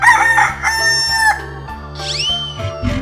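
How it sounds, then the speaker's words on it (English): A cartoon rooster in a 3D animal slide video game gives a loud, rising cock-a-doodle-doo crow near the end, over busy game music and effects. "chicken,"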